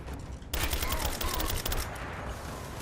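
Rapid bursts of gunfire from a gun in the video game Rise of the Tomb Raider crackle loudly and densely for a couple of seconds, set against a rumbling game background.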